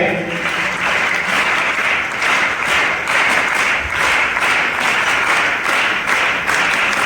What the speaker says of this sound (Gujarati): એકવાર તાળી પાડો સાહેબે કીધી તે રીતે